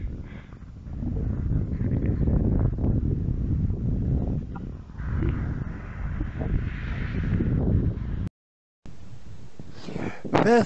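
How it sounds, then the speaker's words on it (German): Strong wind buffets the microphone outdoors near wind turbines, a continuous loud rumbling roar with gusts, a brief dropout near the end, and someone speaking German over it. "Boah, ganz schön windig."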